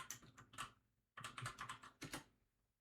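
Quick bursts of typing on a computer keyboard, three short clusters of crisp key clicks separated by brief pauses, close and fairly quiet.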